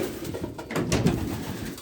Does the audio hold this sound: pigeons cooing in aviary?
yes